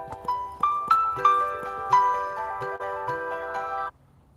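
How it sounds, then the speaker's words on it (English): Phone ringing with an incoming call in a workshop, a melodic ringtone of rising chime notes that repeats for about four seconds, clear and fairly close, then cuts off abruptly. "Oh, I'm getting a phone call."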